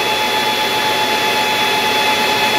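A Genetry 5kW solar inverter's cooling fan blows hard under full load, producing a steady, loud whooshing roar with a faint tonal whine, constant throughout with no voices.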